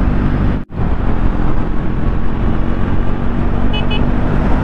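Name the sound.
Triumph Speed 400 motorcycle with slip-on exhaust riding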